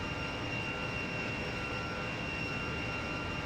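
In the Jetfighter V video game, a jet aircraft engine gives off a constant, even whine and roar with a thin high tone on top, heard alone with no voices.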